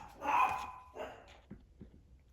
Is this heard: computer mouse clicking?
no